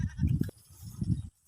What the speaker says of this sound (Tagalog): nandito yung ating mga alagang kambing